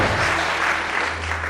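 Steady applause from a TV game show studio audience fills the moment, a dense continuous clatter of clapping with no pauses, fairly loud and close.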